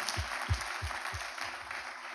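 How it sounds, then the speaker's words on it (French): Audience applause at an award ceremony in Essonne, a moderate, steady patter of many hands with a few heavier low thumps near the microphone early on, fairly even in level. "Je vous demande de les applaudir tous les deux."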